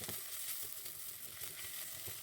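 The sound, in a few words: meat and chopped onion sautéing in a pan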